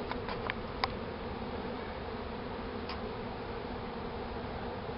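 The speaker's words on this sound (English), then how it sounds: "See if we got scout bees over here. Oh yeah, they're going in this tree." Honey bees from a swarm drone steadily near a tree, a dense continuous buzz at moderate level with a few faint clicks, with no voices.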